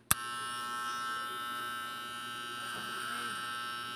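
An electric hair clipper with a dull, blunted blade runs on hair: a close, steady buzzing hum that starts with a sharp click and holds evenly throughout.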